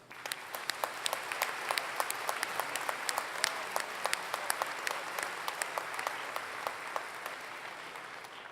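Sustained audience applause fills a commencement ceremony hall at Ferris State University, a steady wash of many hands with scattered sharper claps poking through, even and unbroken from start to finish.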